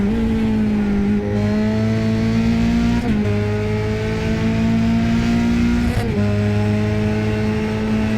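A race car engine in a sim racing game roars at high revs, its pitch climbing steadily through each gear before dropping sharply at two quick shifts, loud and continuous throughout.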